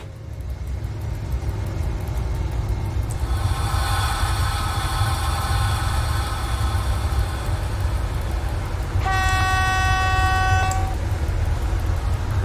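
An SU46 diesel locomotive runs along a line in the MaSzyna train simulator, its engine drone loud and constant, and a sustained horn blast sounds near the end.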